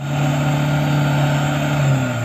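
A New Holland farm machine engine runs steadily at grass harvest, a loud, close, continuous mid-pitched drone holding one note with a slight shift near the end and no talk over it.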